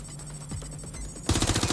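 Gunfire in Watch Dogs Legion: a quiet, tense stretch, then a sudden loud burst of rapid automatic shots in the final half second.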